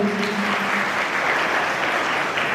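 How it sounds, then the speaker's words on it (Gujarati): Steady, dense applause from a large audience at a school girls' education and admission festival, welcoming the vice chairman Goyal, sustained and fairly loud throughout with no talk. "આપણે ખૂબ ખૂબ તાળીઓથી જોરદાર સ્વાગત કરીએ"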